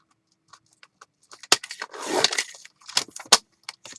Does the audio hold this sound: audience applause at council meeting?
no